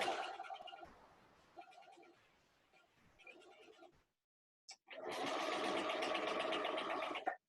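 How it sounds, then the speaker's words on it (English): A sewing machine stitches fabric in two bursts of rapid, buzzing whir, the second louder and sustained, with a brief silent pause between them. "once again I'm going to sew up there."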